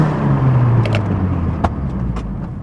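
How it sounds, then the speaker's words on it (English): A 2022 Subaru WRX fitted with a big brake kit slows hard from speed, its engine note sliding downward over steady road rumble, with a couple of brief clunks near the end. "I'm gonna do a little brake test right here"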